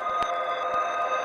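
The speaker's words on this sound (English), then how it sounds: "when you take that reverb and reverse it, the whole reverb structure is being reversed" Reversed reverb from a Qu-Bit Data Bender feeding an Aurora, set fully wet, forms a steady diffuse shimmering wash with soft swelling pulses rising out of it, sustained and alone.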